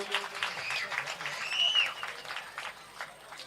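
Applause for a performing music group rises from a crowd at an outdoor devotional night gathering in Kutch, a moderate patter of clapping running under someone speaking over a loudspeaker.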